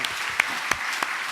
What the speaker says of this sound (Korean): 네, 박수로 하세요.